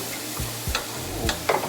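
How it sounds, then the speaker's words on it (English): Shrimp cauliflower rice with cilantro being stirred in a pan: a soft sizzle broken by three or four quick scraping, clacking strokes of a spoon, close and fairly loud, no voices. "I'm gonna stir this up."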